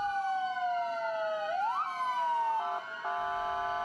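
Ambulance sirens blare together in a deafening protest outside a hospital in San Bernardo at night, several wailing tones sliding up and down and overlapping, loud and continuous with no talk.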